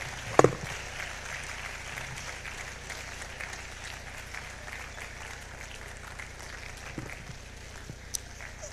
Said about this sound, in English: Let's keep clapping.